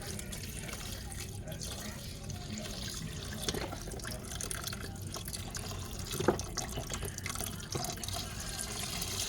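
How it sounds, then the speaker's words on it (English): Swanson's beef broth is poured into a hot pan on a back burner, giving a continuous splashing, sizzling wash with a few louder spurts over about nine seconds, and a voice speaks faintly underneath. "I'm using Swanson's beef broth. I'll go ahead and pour that in there."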